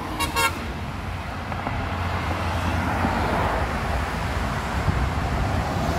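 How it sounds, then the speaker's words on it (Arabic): A short, loud truck horn blast sounds near the start, with steady road traffic and wind noise continuing afterward. "هذا زمر."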